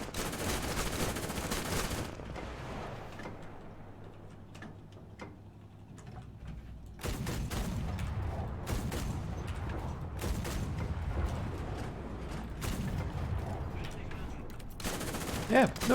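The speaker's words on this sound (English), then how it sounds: "that bow machine gun cannot move. It can just fire straight and that's it" Tank bow machine gun firing straight ahead in War Thunder update 1.91, rapid bursts of gunfire crackling loudly near and far across the scene, with a quieter stretch partway through and voices talking over it.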